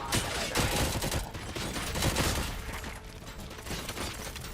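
Rapid, continuous gunfire from the RoboCop video game, dense overlapping shots and mechanical clatter filling the whole span at a steady, loud level with no speech.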